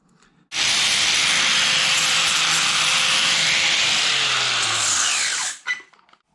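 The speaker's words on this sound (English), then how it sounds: "run a grinder all the way around that diameter" An angle grinder cuts steadily around the welded seam of a decatted stock motorcycle exhaust can on a Kawasaki 636 B1H, a loud, sustained abrasive whine lasting about five seconds, then stopping abruptly with a brief tail.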